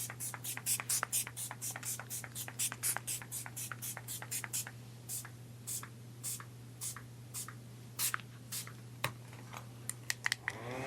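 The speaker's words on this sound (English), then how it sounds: "I'm gonna spray my face again." Dozens of short, quick spritzes of makeup setting spray onto a face come in rapid bursts, then more sparsely, close by over a constant low electrical hum.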